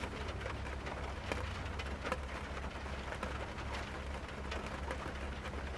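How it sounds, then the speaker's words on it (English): Steady rain falls on the roof of a van lived in full time, a dense continuous patter with scattered sharper drops striking the metal, evenly loud throughout with no voices. "If you can hear the rain falling on my roof."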